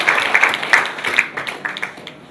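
Audience applause for a guest, the chairman of Ashaka Cement PLC board, at a formal event in Nigeria; dense crowd clapping, steady and moderately loud, fading slightly toward the end.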